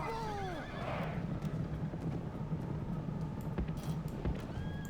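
Mercenary horse archers' horses in Rome: Total War give a loud whinny at the start, followed by continuous hoof clatter and battle noise, with another faint neigh near the end.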